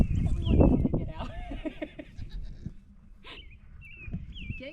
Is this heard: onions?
no